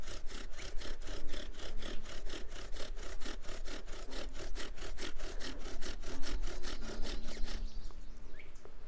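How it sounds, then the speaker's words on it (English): A bow drill spindle grinding and burning into a wooden hearth board, with fast, even back-and-forth rasping strokes repeating steadily throughout, close and continuous. "I'm going to keep going until I've burned it to the diameter of the spindle."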